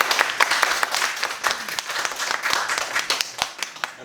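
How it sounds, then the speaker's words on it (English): An indoor audience at a training program claps steadily, a dense, close round of applause with sharp individual claps standing out, continuing without pause and with no voices over it. "Meg has done, give her a round of applause."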